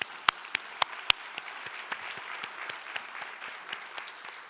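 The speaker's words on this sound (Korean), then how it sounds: "우리 박수 한번 할까요?" Audience applause at a church gathering, a scattered round of clapping with a few loud, sharp claps standing out, steady and moderately close.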